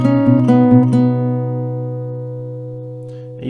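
Acoustic guitar picks out a melody in a few plucked notes at steady tempo, the last chord ringing and slowly fading, close and clear with no talking.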